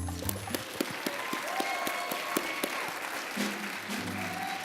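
A crowd at the 2018 MEAC Hall of Fame ceremony applauds an inductee, with sustained dense clapping and some sharper nearby hand claps, fairly even in loudness throughout.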